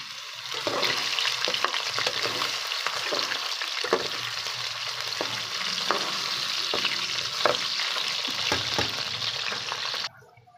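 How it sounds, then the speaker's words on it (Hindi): Potato pieces fry in a pan with a steady, loud sizzle and frequent stirring scrapes through the clip, cutting off abruptly near the end. "अब आलू भी हमने फ्राई कर लिए अच्छे तरीके से"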